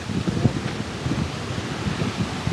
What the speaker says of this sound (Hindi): Guys, this is Benya's waterfall.